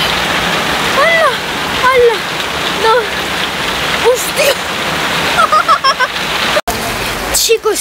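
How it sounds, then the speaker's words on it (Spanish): Heavy rain pouring down on a garden, a dense, steady hiss of drops splattering on surfaces, with occasional voices and exclamations breaking through close by. "Chicos, se ha puesto a llover un montón"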